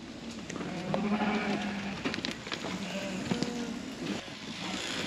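Rams, a flock of sheep held for inspection, give a few low bleats and calls over an outdoor ambience, with some scattered shuffling and knocks nearby.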